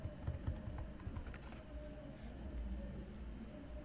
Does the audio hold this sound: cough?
no